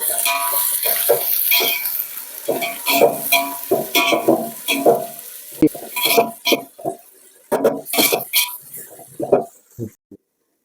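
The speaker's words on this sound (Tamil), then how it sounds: "கோல்டன் ப்ரௌனாக வர வரைக்கும் நம்ம வதக்கணும்" Onions sauté in hot oil for a chicken biryani, sizzling steadily while a spoon scrapes and stirs the pan in irregular clatters, the frying dying away near the end.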